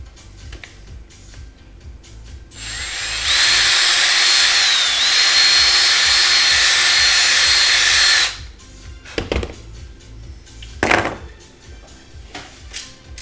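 A power drill whirs loudly for about five seconds, boring out a hole in a plastic Rock 'em Sock 'em Robots toy part, followed by a few short clunks and knocks as the piece is handled.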